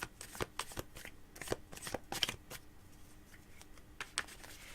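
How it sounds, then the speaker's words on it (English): Tarot cards being shuffled: a quiet run of crisp riffles and soft slaps at an uneven pace, with no talking. "Shuffling the cards."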